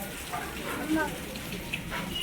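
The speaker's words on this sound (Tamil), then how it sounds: "சரியான மழை பெய்யுது" Heavy rain pours down outdoors at a Santhana Mariamman temple festival, a steady broadband hiss of drops on surfaces, with people talking nearby throughout.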